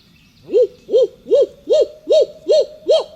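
Seven evenly spaced barred owl hoots, clear and fairly close, repeating in a steady rhythm with nothing else behind them, in a Florida morning woods.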